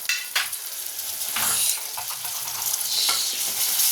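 Ginger garlic paste with tomato sizzles and fries in a pan for a chicken fry, stirred with a few scraping strokes, close and steady with no talk.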